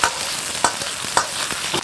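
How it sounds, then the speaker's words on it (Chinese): Pork belly stir-fried over high heat in a wok as its fat renders out: a bright hissing sizzle with regular sharp scraping strokes of the spatula, close and alone. "先用大火煸炒，把里面的油脂给它炒出来"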